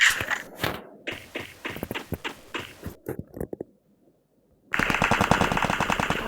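Rapid video-game gunfire bursts in quick succession, loud and close, pausing briefly into silence before another dense automatic volley resumes.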